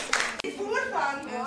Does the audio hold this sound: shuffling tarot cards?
no